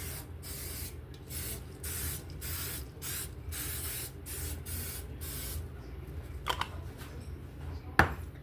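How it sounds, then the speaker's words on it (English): Repeated hissing bursts of a butter cooking spray can in quick rhythm, close by, while preparing lasagna, followed by a couple of clicks and knocks. "I'm gonna spray them with butter."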